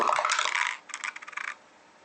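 Dice clatter down through a dice tower during a tabletop game, a bright rattling burst followed by a few quicker tumbling clicks before stopping.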